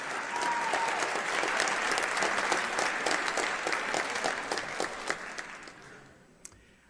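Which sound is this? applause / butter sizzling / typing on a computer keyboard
applause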